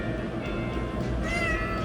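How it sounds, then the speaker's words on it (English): A cat meows close by, a drawn-out, slightly whiny call with no talking over it. "Here comes Oliver to say hi. Hello. Meow."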